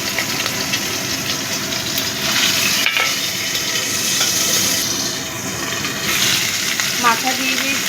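Fish heads frying in hot oil in a wok, loud continuous crackling sizzle with brief clatters and a muffled shift midway, as if a lid is set on.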